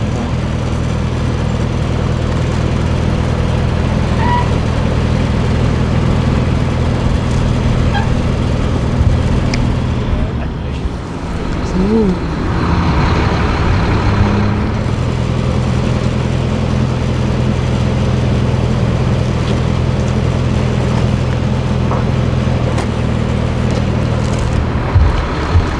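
A skid steer engine runs steadily at a fireground live fire training drill, a low continuous drone with stable harmonic hum, moderately loud and unbroken, briefly dipping before resuming.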